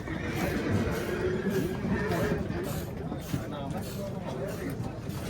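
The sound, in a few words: young horse neighing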